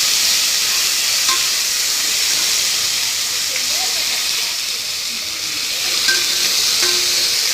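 Chopped onion and tomato frying in a pan for mushroom biryani, a steady close hiss and sizzle holding evenly throughout with faint stirring clinks.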